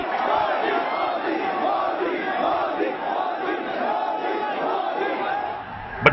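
A large, restive crowd at a Narendra Modi political rally roars and chants in a dense, sustained wall of massed voices, loud and continuous from start to finish.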